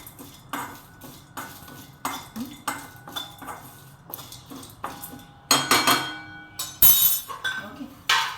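Chai masala with dry ginger powder dry-roasted and stirred in a pan, repeated metallic scrapes and clinks of a spoon against the pan in a steady rhythm, louder bursts toward the end.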